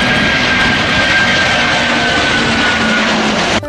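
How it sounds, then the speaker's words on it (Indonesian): Airplane passing with a loud, steady engine drone and rushing roar that holds without a break for several seconds, then cuts off abruptly at the end. "Wow, ini kapal terbang."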